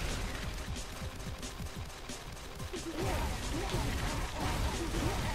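Rapid, continuous weapon fire with dense bursts and crashing impacts from the Charlie Murder video game, including a rocket launcher with endless ammo, loud and sustained throughout with no voices.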